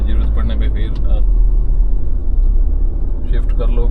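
Car coasting off-road in low gear with neither brake nor accelerator, a loud steady low engine and road rumble throughout, with talk over it at the start and end.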